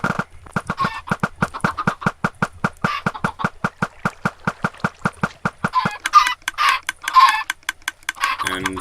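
Minecraft chickens cluck in a fast, steady stream of short, regular clucks at an automatic chicken coop and cooker, followed by a busier, brighter stretch of game sounds near the end.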